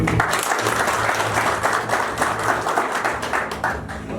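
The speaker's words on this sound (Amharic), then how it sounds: "በድጋሚ ታምራላችሁ ስትሉ አጨብጭቡላችሁ።" An audience applauding, a steady wash of many hands clapping that holds for several seconds and gradually thins toward the end.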